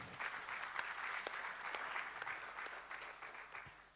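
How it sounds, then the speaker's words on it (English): An audience claps at the close of a thought leadership seminar, continuous faint applause with a few sharper individual claps, tapering off at the end. "A round of applause for yourselves."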